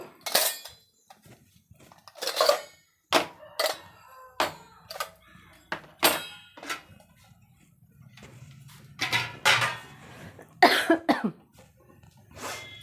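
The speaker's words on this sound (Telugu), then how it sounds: "రాత్రి నుంచి విపరీతంగా దగ్గు వస్తుందండి" Someone coughs repeatedly in sharp, close bursts, with light clinks of kitchen utensils and a heating stove pan in the background.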